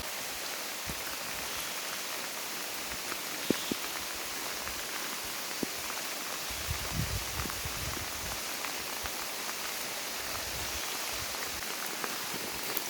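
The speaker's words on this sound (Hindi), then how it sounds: "ये है कि बारिश बहुत हो रही है" Heavy rain falls at Kilbury Lake near Naina Devi, a soft, even hiss of drops on surfaces with scattered closer patters and taps, steady and moderately quiet throughout.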